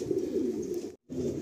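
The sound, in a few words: pigeon cooing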